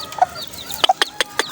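Chickens cluck in short, sharp bursts close by, with thin high peeps from chicks scattered between the hen's calls.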